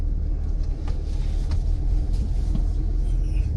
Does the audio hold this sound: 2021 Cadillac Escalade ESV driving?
yes